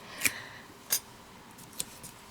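Scissors snip out a paper piece that is taped down, giving three or four crisp, separate close cuts spaced unevenly over a quiet background.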